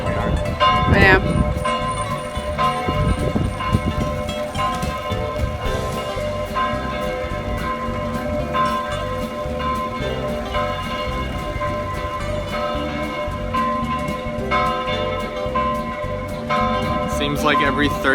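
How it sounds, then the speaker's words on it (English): Loud, close church bells in Rome ring continuously with rich overlapping tones, a steady clanging peal that fills the whole stretch. "Seems like every 30 minutes there's bells going off somewhere."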